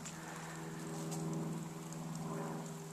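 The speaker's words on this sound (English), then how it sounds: "it's raining as usual in October here in Oregon" Steady rain falls on an October morning on an Oregon farm, a continuous soft patter with a faint low hum underneath and no speech.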